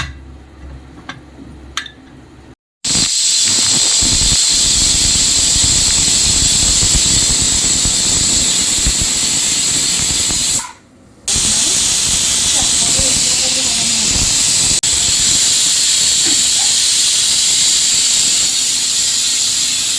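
A pressure cooker on a stove, cooking mutton curry, releases a loud, sustained hiss of escaping steam with a shrill whistle tone, briefly cutting out twice before resuming at full force.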